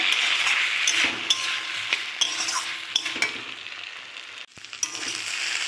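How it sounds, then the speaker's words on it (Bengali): Ivy gourd sautéing with poppy seed paste in a pan, giving a loud continuous hiss of frying with regular clicks and scrapes of a spatula stirring through it, briefly cut near the end. "2 মিনিট আমি কষিয়ে নিয়েছি, 2 মিনিট কষিয়ে নিয়েছি।"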